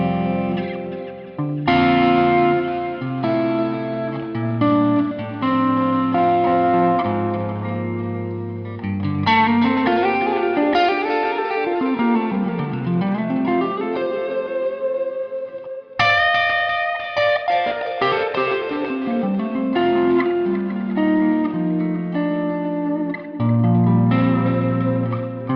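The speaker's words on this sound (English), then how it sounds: "That sort of sweet spotty Fender type thing, right?" An electric guitar plays chords and melodic phrases through a Fender-style amp plugin tone, warm and slightly driven, with bending sweeps and continuous sustained notes.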